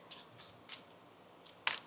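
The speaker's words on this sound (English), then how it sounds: "One more shuffle." Tarot cards are shuffled by hand, giving several soft, papery riffles spaced apart and then one sharper snap near the end, quiet and close with no talking.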